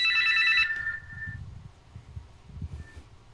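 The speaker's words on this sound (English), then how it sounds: "There's my phone ringing." A telephone bell rings in a home, a clear electronic trill that stops after under a second, with a fainter short ring returning near the end over low room noise.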